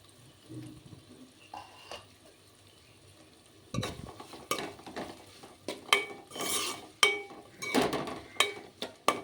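Onions and green chillies stir-fried in a pan: a low sizzle at first, then from about four seconds a run of loud, irregular scrapes and clatters of a spoon against the pan over steady frying.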